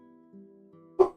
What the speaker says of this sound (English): Apologies if you hear the dog in the background.